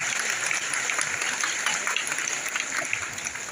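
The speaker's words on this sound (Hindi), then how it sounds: "ताली बजा के सभी लोग अभिवादन करेंगे" An audience claps steadily to welcome guests at a morning satsang gathering in Sant Kripal Nagar, a dense, even patter of many hands that keeps up at moderate loudness throughout.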